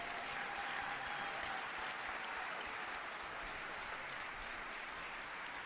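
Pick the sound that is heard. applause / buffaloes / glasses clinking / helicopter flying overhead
applause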